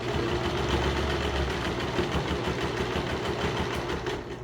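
A sewing machine runs steadily while a fabric face mask with a see-through panel is sewn, giving a continuous close, loud mechanical whir and rattle with no pauses.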